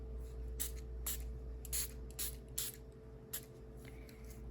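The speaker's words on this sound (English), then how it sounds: "I got these little mini misters in case I needed to spray anything with water." A small handheld mini mister sprays water in short bursts, about seven quick hissing puffs at an irregular pace, close up and fairly quiet over a low background hum.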